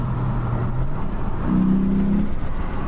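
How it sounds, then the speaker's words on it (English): A car engine hums and revs while driving, heard from inside the cabin as a steady low drone with the pitch rising and shifting as the engine climbs, no voices over it. "You might just get a taste for the engine here."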